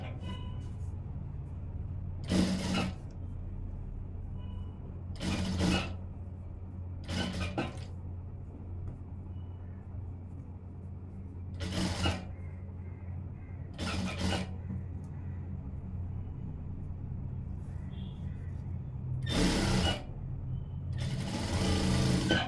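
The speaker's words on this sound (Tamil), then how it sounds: "இந்த லைனிங்கில் ஓர தையல் போட்டுடலாம்" A sewing machine stitches a seam along blouse lining in repeated bursts of fast whirring, several separate runs broken by pauses, close and loud over a steady low background hum.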